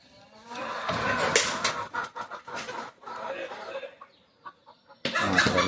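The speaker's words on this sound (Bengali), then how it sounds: "একটা মাদি কবুতর।" Female pigeon of a fancy Pakistani breed, its soft cooing and rustling close by, mixed with bird calls and people talking nearby.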